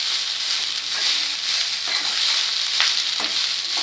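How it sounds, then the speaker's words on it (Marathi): Cumin seeds sizzling in hot oil as a tempering for dhaba-style jeera rice, a bright steady crackling hiss with occasional stirring scrapes, no talk. "छान असा जिऱ्याचा तडका लागलेला आहे ह्याला"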